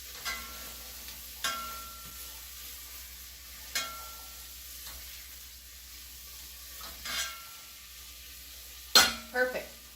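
Vegetables being stirred in butter in a pan for corn chowder, with a soft steady sizzle throughout and occasional louder scrapes and clinks of the utensil against the pan, the sharpest near the end.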